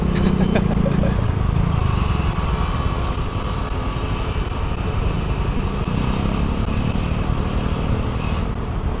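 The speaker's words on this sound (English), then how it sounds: "all the traffic ruckus and the motorbike noise or engine sound that I enjoy" Constant street traffic roars nearby in Phuket Old Town, Thailand, in the early morning, with the buzzing drone of motorbike engines running throughout at a steady, loud level.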